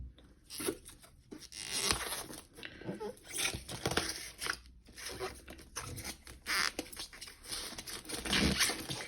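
Protective plastic film being peeled off a Redragon RGPS 600W PSU box, a close series of crinkling, tearing rips and rustles in irregular bursts over several seconds.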